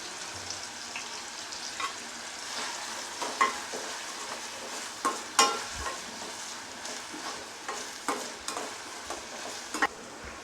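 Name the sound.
frying curry leaves and green chillies for rava paddu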